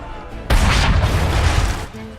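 A cannon fires in Assassin's Creed III, a sudden heavy boom followed by a rumbling, sustained blast tail that fades after about a second and a half.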